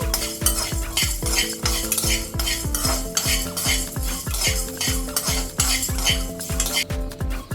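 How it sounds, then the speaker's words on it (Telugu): Two tablespoons of raw chana dal fry in a pan as a metal spoon stirs briskly, giving loud, close, rhythmic clanks and scrapes against the pan over a faint sizzle. "ఈ పచ్చి శనగపప్పు కొద్దిగా వేగనివ్వాలండి"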